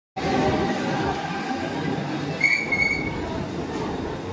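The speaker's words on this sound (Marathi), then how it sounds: "ही ट्रेन आपल्याला पकडायची नाही" A train rolls through GTV railway station, its loud, continuous rumble close by, with a brief high wheel squeal about halfway.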